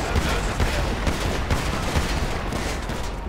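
Dense gunfire rattles in GTA 5 as a police SWAT van pins down suspects: a steady barrage of overlapping shots with regular low thumps, loud and continuous for several seconds.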